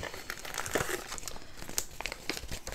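Plastic packaging of a Diamond Art Club kit being opened close by, quiet crinkling and crackling in irregular bursts throughout.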